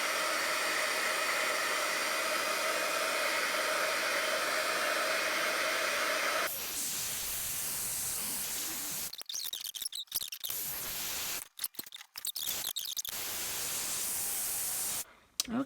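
An embossing heat tool blows with a loud, steady hiss-roar, drops to a lower tone partway through, then cuts in and out in several short bursts near the end.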